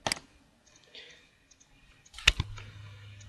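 Sharp computer mouse clicks in Ecotect building-analysis software: a single click, a quiet pause with faint ticks, then a louder cluster of clicks, all close and with no talking.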